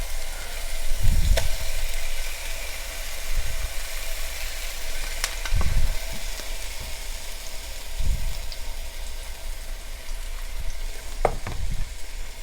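Sofrito sizzling and frying in hot oil in a pan, a steady close crackle with a few soft stirring thumps and scrapes, no talking.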